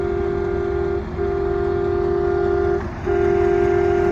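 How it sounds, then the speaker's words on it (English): A steady, loud vehicle horn blares continuously at close range, briefly dipping twice, over a low rumbling engine background at a busy truck stop. "my neighbor here's got his horn honking"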